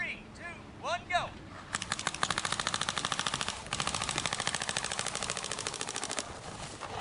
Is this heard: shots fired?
yes